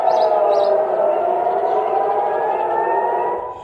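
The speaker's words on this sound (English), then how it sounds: "Sirens rang out as Israeli air defense systems swung into action" Air raid sirens wail during a missile attack in Israel aimed toward Ben Gurion airport, a loud steady tone sliding slowly downward and holding throughout before easing off at the end.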